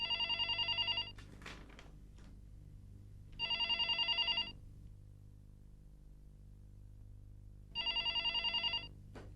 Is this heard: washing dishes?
no